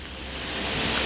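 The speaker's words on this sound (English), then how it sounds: "But you hear that water sound?" Glacier-fed stream in the Andes rushing steadily with a broad, hissing roar of flowing water that swells slightly louder, with no voices over it.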